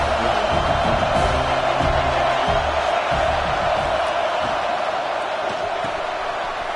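A home crowd roars at a Georgia versus USC college football game as the defense faces third down, a loud, steady wall of cheering and whooping that fills the whole stretch without letup.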